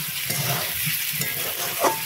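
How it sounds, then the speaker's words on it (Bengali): Onions sizzle steadily in a hot pan for an aloo dum curry, with soft scraping stirs breaking through the constant frying hiss, close and without any talk. "এবার আমি সব কিছু ভাজা ভাজা করে নেব।"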